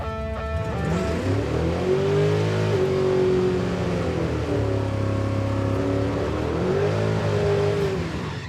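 Roadkill Crusher Camaro drag car running at a torn-up track during Power Tour West, a loud close engine rising and falling through several revs with a rough, uneven tone.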